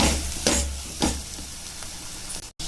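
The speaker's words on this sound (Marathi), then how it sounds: "आपला इथं चांगला मसाला फ्राय झालेला आहे" Misal masala fries in oil in a pan with a continuous sizzle, punctuated by several distinct spatula scrapes at roughly half-second intervals and a brief dropout near the end.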